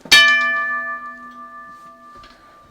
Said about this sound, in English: This is an early model 333 crossing bell. It has a cast iron gong on it too